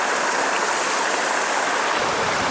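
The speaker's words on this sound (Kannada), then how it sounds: "ಇದೇ ವ್ಯೂ, ಅಲ್ಲಿಂದ ಮೇಲಿಂದ ಬರೋದು ನೀರು" Water pours down from above at Kakoli beach, a loud, unbroken rushing roar that fills the whole scene without pause.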